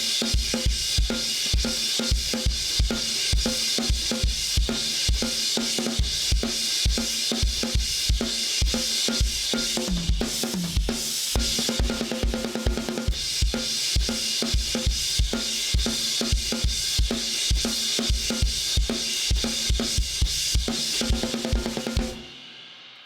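A full drum kit plays the chorus groove, steady and driving with regular kick and snare hits under constant cymbal wash, loud and close, for about twenty seconds.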